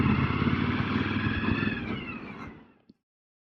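A 2018 Kawasaki Vaquero motorcycle rolls up close with a steady, loud engine rumble that holds for over two seconds, then cuts off abruptly, leaving a brief click and silence.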